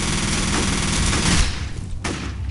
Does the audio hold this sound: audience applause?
no